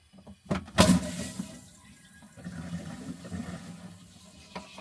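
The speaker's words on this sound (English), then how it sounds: "Flushing the toilet." Toilet flushing in an RV bathroom: a sharp burst of rushing water followed by a steady swirling drain and refill, fairly close, with no talk.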